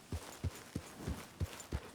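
Tiger Stripe Bay horse walking in Red Dead Redemption 2, six evenly spaced soft hoof clops, fairly faint and close, with no voices.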